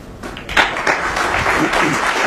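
Snooker match audience breaks into applause, a dense, steady patter of clapping from a sizeable crowd that swells briefly and holds for a couple of seconds, with no voices on top.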